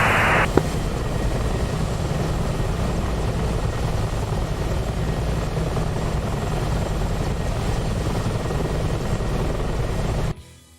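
A Huey helicopter in a combat flight video game, a loud continuous rotor thump and turbine drone that holds steady and then cuts off abruptly near the end.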